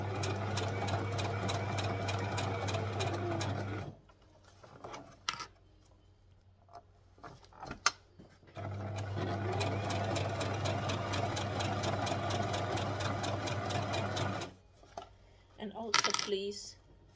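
A sewing machine stitches fabric for a small cosmetic bag, running steadily in two long bursts with a quiet pause between, plus a few light clicks and handling noises near the end.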